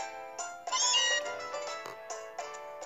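Meowth's cry from Pokémon Moon, a series of bright, high cat-like meows in quick short bursts, clear and close with no talk over them.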